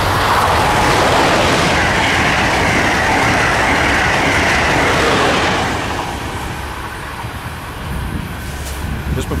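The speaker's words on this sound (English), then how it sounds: "Amtrak Acela Express train 2166 roars northbound on its way to Boston" Amtrak Acela Express train 2166 roaring northbound toward Boston on the Northeast Corridor, a loud close rushing roar with rattling wheels that eases slightly partway through.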